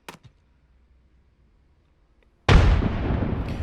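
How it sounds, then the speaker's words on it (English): A frag grenade goes off in Apex Legends, one loud sudden blast with a long rumbling tail. Faint clicks come before it over near silence. "someone in Twitch chat just forced me to use a grenade in Apex Legends"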